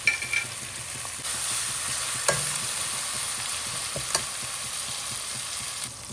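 Masala with tomato puree fries in a pan, a steady, fairly loud sizzle with occasional scraping of a spoon stirring against the pan, a few sharper taps standing out, no talk.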